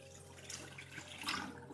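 Dirty water from the tank of a Proscenic F20 wet-dry floor washer is poured out, giving a soft, steady splashing gush that swells toward the end, close by with no talk.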